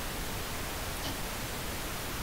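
Steady pink noise test signal from an aux track in a Pro Tools session, a constant, even hiss with no variation, played alone.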